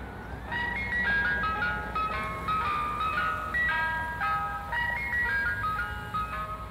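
An ice cream truck plays its jingle, a bright chiming melody of repeated short tonal notes drifting over street noise at moderate distance, with no voices.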